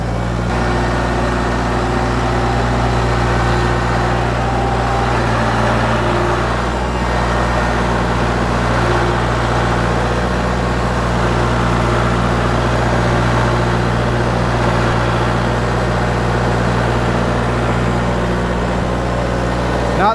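Kubota tractor engine running steadily during a test ride, a loud continuous low rumble with constant drone and no pauses.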